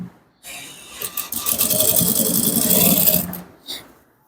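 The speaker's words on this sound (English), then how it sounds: "You stitch, you pipe your neckline." Sewing machine stitching piping along the neckline of a men's Ankara top, running steadily at close range for about three seconds after a brief start, then stopping, with a short burst at the end.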